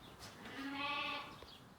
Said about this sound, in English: anybody want some sheep?